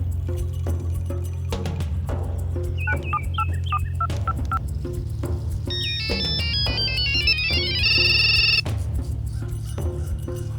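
A phone in a dubbed South Indian film beeps with dialing tones and then a bright electronic ringtone. The sounds play over a steady musical score.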